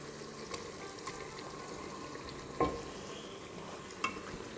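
Chicken fries in a pan with ginger, garlic and green chilli paste, a steady low sizzle broken by a few sharp scraping stirs of a spoon, close by and without talk.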